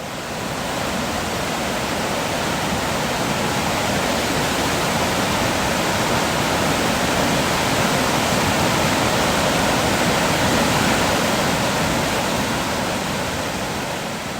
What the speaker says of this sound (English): We were able to get really close and hear the rushing water in lots of different places.